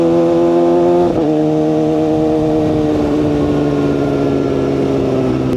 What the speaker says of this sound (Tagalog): Itong motor ko ay napakaingay